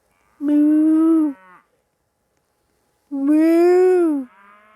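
A person vocally imitates a cow with two long, loud, low moos separated by a silent gap, close to the listener.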